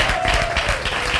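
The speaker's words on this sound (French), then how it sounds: "On applaudit pour Dieu." A congregation at a Bible question-and-answer gathering applauds, a short loud burst of crowd clapping with a faint held tone running through it.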